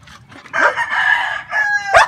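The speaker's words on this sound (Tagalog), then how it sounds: "silipin natin yung munting manukan dito ni Boss Asyo." A rooster at a backyard game farm lets out a loud, close crow lasting about a second, followed by a brief burst of chicken clucking.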